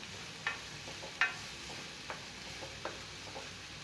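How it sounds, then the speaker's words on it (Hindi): Onions frying in a pan over a high flame, a steady low sizzle punctuated by a few sharp stirring clicks of a utensil against the pan, close-up with no talking. "अच्छी तरीके से प्याज को हमने भून लेना है हाई फ्लेम पर।"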